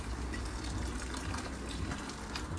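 Freshly boiled kettle water pours into a pasta pan in a home kitchen, a soft, continuous splashing gush heard close up and fairly quiet for a couple of seconds.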